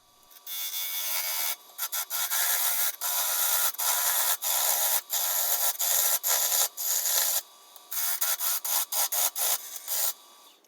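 A bowl gouge with a steep 40/40 grind cuts the sidewall of a Michigan sassafras winged bowl spinning on a lathe, giving a close, steady scraping hiss broken by frequent brief pauses as the tool lifts off.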